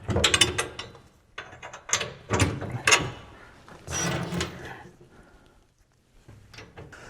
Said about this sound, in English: We'll go ahead and bolt down this bracket.